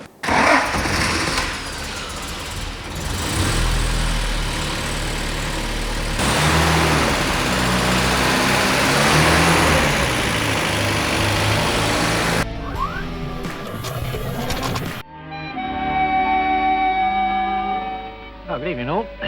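A 1960s Series 2 Land Rover's old engine is started and left to run, giving a rough, steady rumble over many seconds with some revving. It ends in a shift to a different, tonal passage, with voices mixed in.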